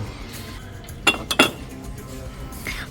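A ceramic storage jar for dry goods with a pumpkin-shaped lid is handled in a shop, giving three quick hard clinks close together at mid-clip, set against a quiet background.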